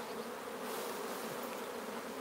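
Honey bees buzzing as they are shaken off frames while checking for queen cells, a faint, dense, continuous hum with no voices.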